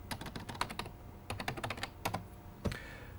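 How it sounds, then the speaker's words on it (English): A web address is typed on a 1995-era computer keyboard: quick, close bursts of crisp keystrokes with short pauses between groups. "If I go up here and type in worldwideweb.microsoft.com"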